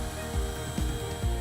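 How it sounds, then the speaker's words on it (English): Drill spinning a foam pad against a headlight lens with polishing compound, a steady whirring hum with three rhythmic rubbing swells as the pad moves across the plastic. "holding the foam pad to the lens, turn on the drill"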